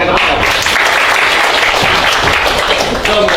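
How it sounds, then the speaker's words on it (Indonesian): Students in a classroom clap together loudly and continuously, a dense steady patter filling the room with some voices mixed in. "Tepuk tangan pakai tepuk tangan."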